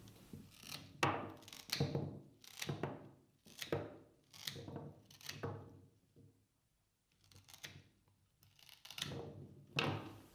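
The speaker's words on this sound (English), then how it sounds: "So keeping it nice and short, going through cutting the stems." Crisp snips of scissors cutting through sunflower stems for a topiary, repeated in a steady rhythm of about a dozen close cuts with a short pause near the end.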